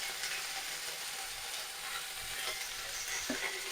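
Ground cumin and coriander with turmeric sizzle in hot oil alongside potatoes and drumstick flowers, a steady close frying hiss broken by scraping clicks of stirring, with no talk.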